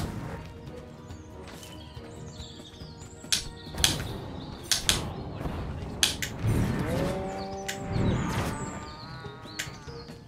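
A cow in the Destroy All Humans! video game lets out a long, drawn-out moo amid scattered crashes, clicks and game effects.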